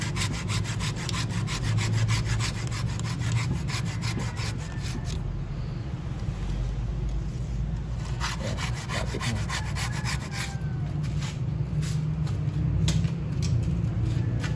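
A small, thin hand saw cuts through a bougainvillea branch with steady back-and-forth rasping strokes, close and continuous throughout, with a brief change in rhythm midway and no talking.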